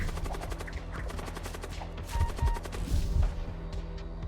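Corruption beams and thunder cannons firing in the spaceship combat game Void War, a dense clatter of rapid blasts and impacts with buzzing energy tones, growing heavier and louder toward the end.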